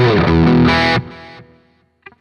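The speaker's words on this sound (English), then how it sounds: "I've got a Marshall 1959 Plexi going on there" Electric guitar through a Zoom G1X Four multi-effects unit set to a Marshall 1959 Plexi amp model with an Orange cab, a loud distorted chord ringing close up, then cut off and decaying, followed by a couple of faint clicks.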